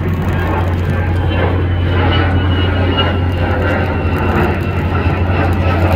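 A fixed-wing airplane passes overhead near Boston's container port, its jet engine producing a loud, continuous roar with a steady low drone that stays constant throughout, with no talk.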